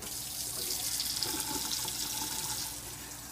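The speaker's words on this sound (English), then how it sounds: "we're gonna let the water run for a bit." A kitchen tap runs steadily into a sink as water is flushed through before use, producing a continuous hissing splash at an even level with no speech.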